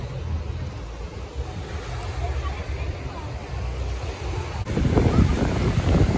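Surf at a beach in Búzios, Brazil, a steady wash of waves under wind buffeting the microphone, with a louder surge of breaking water near the end.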